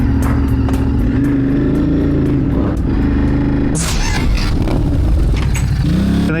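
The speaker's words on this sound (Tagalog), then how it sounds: "Naka-ready na rin yung motor natin." A motorcycle is ridden, its engine droning loud and close throughout with wind rush. The engine pitch rises and falls, and the tone shifts sharply partway through, as if the gear changed or the bike accelerated.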